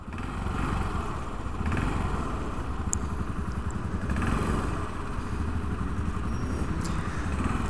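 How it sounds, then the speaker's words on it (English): Yamaha SR400 single-cylinder motorcycle engine rumbling steadily while riding, a loud continuous low throb with wind noise, no speech. "This rumbling of the engine, it has..."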